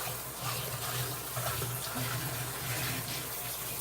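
Tap water runs steadily onto a clean cloth being wetted in a kitchen sink, a soft continuous splashing stream, fairly quiet and with no talk.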